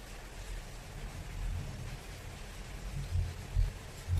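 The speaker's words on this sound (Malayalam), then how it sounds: "ചൂട് കഴിഞ്ഞിട്ട് ഭയങ്കര മഴ" Heavy rain pours steadily with a dense, hissing wash and deep low rumbles swelling now and then.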